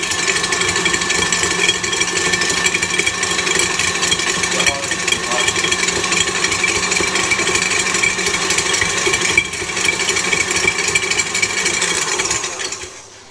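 A KitchenAid appliance grinding breadcrumbs runs as a loud, steady mechanical whir and rattle that continues without pause before tapering off at the end.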